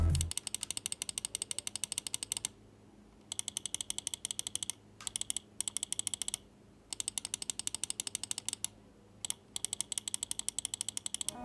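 Button clicks from a Hator Quasar Wireless computer mouse, sharp rapid clicking in fast bursts separated by short pauses, close and crisp with no talking.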